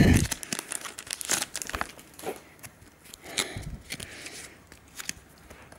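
A Pokémon Breakthrough booster pack being torn open and handled, close crinkling and rustling of foil wrapper in irregular bursts with a few sharper tears.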